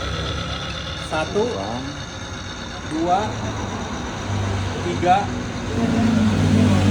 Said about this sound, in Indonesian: Suara mesin malah halus.